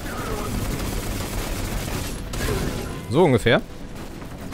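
Gunfire in the shooter video game Destiny 2, a couple of sharp bursts near the end, preceded by game ambience with someone talking over it.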